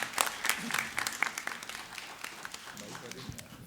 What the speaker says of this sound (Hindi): इस्तकबाल कीजिए ज़ोरदार तालियों के साथ।